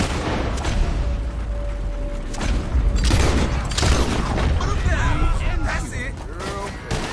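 Gunfire in a video game played on a PS4, with several loud, booming shots bursting out at irregular intervals over a dense, busy game soundtrack and voices talking.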